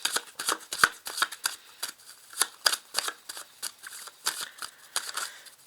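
Tarot cards being shuffled by hand, a rapid series of crisp papery riffles and flicks in quick uneven bursts, close and fairly quiet, with no talking.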